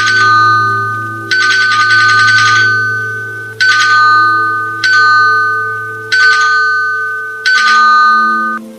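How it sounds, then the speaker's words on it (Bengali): A doorbell rings loudly and repeatedly as a sound effect in a spooky story, with five or six separate electronic ding-dong bursts at a steady pace over a low droning background. "ঘন্টাটা বাজতে লাগলো।"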